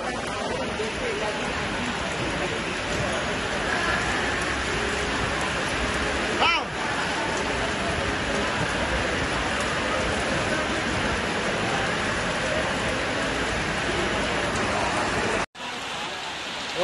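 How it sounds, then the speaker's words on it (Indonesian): Heavy rain falls steadily during an outdoor football tournament, a dense, loud, unbroken hiss that runs for most of the time, with a brief thump and an abrupt drop near the end. "Hujan-hujanan."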